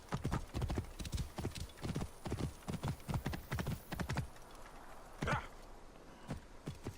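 Hooves of a horse in Assassin's Creed Origins clip-clop in a quick, steady rhythm at close range, then slow and fade, leaving quiet ambience with one brief thud.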